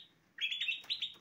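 Kutilang emas, a golden bulbul, gives a short bright chirping call in an aviary, a quick run of clear whistled notes close by after a faint opening note.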